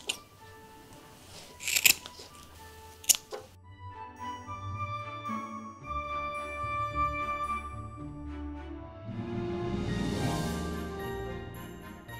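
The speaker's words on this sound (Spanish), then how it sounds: "Ahora cortamos por en medio de las fibras y empezamos a deshilachar." Scissors cutting through craft fibres for a Christmas angel decoration, a few sharp snips near the start followed by quieter rustling and handling of the fibres, faint and close.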